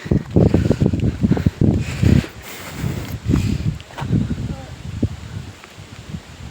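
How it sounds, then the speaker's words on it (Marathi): Strong wind gusting over the hilltop at Asherigad Fort, roaring in uneven surges against the microphone with rustling trees, loud and close throughout. "वरती भरपूर वारा आहे"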